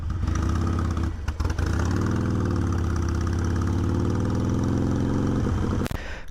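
A stock 2020 Harley-Davidson Softail Street Bob with a Milwaukee-Eight 107 engine idles close by with a deep, steady, loping rumble, running continuously without pause.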